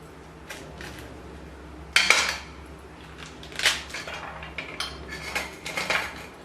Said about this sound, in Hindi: सबसे पहले हम अनार ले लेंगे, इनका ऊपर से छिलका इस तरह काट के उतार लेंगे।